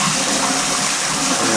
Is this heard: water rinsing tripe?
yes